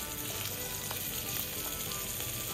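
Okra frying in olive oil in a pan, a dense, constant sizzle with faint crackles, close and steady throughout without any talk.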